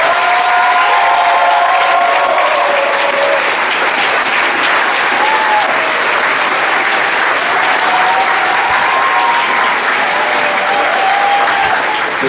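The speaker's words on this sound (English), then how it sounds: "let's give a big round of applause for our Master of Arts in Clinical Psychology" Steady, loud audience applause at a 2016 university commencement for Master of Arts in Clinical Psychology graduates, a continuous wash of many hands clapping with faint murmuring and a few cheers mixed in.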